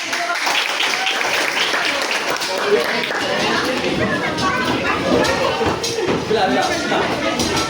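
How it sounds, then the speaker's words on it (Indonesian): Students in a classroom break into applause, a dense burst of clapping that fills the room for several seconds. "Silakan tepuk tangan."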